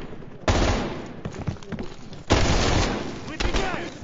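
Sustained suppressing gunfire in the Call of Duty Black Ops Cold War campaign mission Fracture Jaw, two long loud bursts of rapid shots with a short lull between, close and dense, with voices shouting over the battle.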